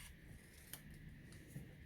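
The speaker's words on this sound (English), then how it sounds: "I've just got a little post-it note here, which I'm just going to cut roughly to the same width as my sentiment" Scissors cut through a small post-it note during card making, a quiet run of soft snips with a few sharper clicks and a louder snap at the end.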